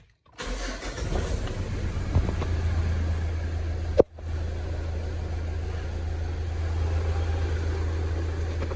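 A cold Mitsubishi Triton engine cranks and catches, then settles into a steady low idle up close, broken by one brief sharp click partway through, with no revving.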